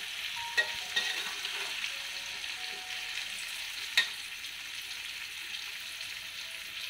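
Jackfruit pieces, cut fairly small, fry in a pan with a steady hiss throughout, punctuated by a few brief clicks of stirring. No one speaks.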